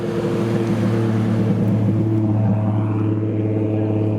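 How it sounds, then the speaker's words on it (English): A Nissan Skyline R33 pulling in at a busy car meet, its engine a loud, deep rumbling idle close by with slight revs rising and falling. "we have another R33 pulling in. This is one of the really nice sounding ones."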